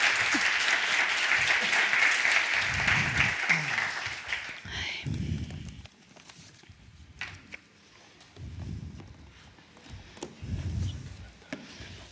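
Audience applause at an education conference held at an architects' association in Madrid, a broad dense clapping wash for about four seconds that fades out, followed by quieter room noise with scattered low thumps and shuffling.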